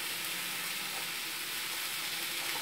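Burgers frying in a pan give a steady, close sizzle with constant crackle throughout, no voices.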